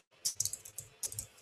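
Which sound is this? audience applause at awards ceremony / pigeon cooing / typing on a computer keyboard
typing on a computer keyboard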